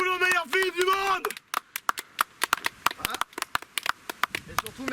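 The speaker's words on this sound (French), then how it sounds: "On applaudit pour le meilleur film du monde!" Audience applause at a film screening: a short burst of spoken talk, then a few seconds of sparse, distinct claps from a small group, close and fairly loud.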